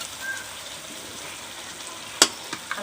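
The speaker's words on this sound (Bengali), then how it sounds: "আবারও আমি অল্প জল দিয়ে কষাবো" Desi chicken curry with potatoes stir-frying in a village-style pan after a splash of water, a steady low sizzle with a sharp scraping clatter near the end followed by a couple of lighter knocks.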